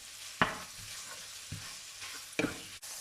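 Pork being stir-fried in a pan for Thai stir-fry noodles with pork and egg: a few sharp scraping stirs of the spatula over a low, steady sizzle.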